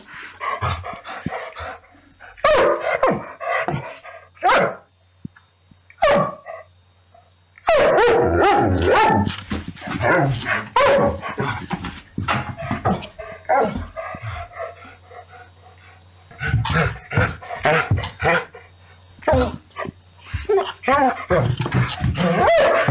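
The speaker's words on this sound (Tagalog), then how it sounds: "Diba talaga namang napakalakas ng tunog ng kahol ng aso?" A dog barks repeatedly in sharp bursts, with growls and whimpers, interspersed with a person talking nearby.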